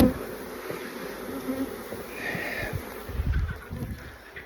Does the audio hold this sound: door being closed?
no